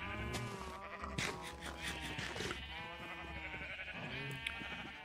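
Black sheep in the video game Minecraft bleat repeatedly, a series of close, clear, nasal bleats overlapping one another with brief gaps, heard alone with no talking.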